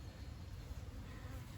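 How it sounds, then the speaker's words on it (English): Buckfast honey bees in a deep hive box, a faint continuous low buzzing hum of many bees close by, steady without breaks and no voices. "there's a lot of bees in this deep right now"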